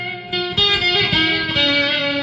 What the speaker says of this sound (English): So this is the Steinberger bridge pickup on my distortion setting.